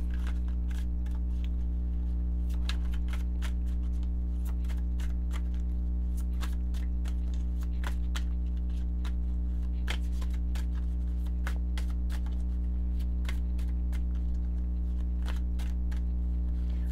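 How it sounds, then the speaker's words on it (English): A tarot card deck shuffled steadily and close by, with a continuous patter of crisp riffling clicks and snaps over a constant low hum. "Looking at this deck and shuffling it"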